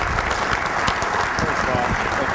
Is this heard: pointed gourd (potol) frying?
no